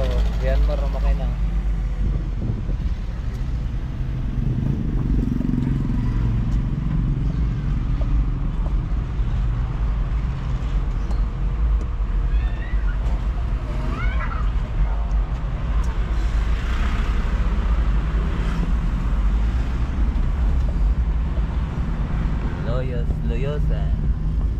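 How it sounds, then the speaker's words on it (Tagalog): A tractor engine runs steadily near a church, giving a continuous low rumble and drone that stays loud from start to finish, with voices talking over it. "Ang ganda ng traktora oh. Yan mo rin makina."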